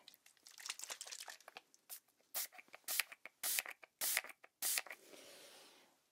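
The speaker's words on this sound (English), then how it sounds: "just got some spray, which I'm going to spray onto this lovely soft gauze" A spray bottle mists liquid onto soft gauze in a close, quiet setting, heard as a series of short crinkly bursts of varying length followed by a longer, fading hiss.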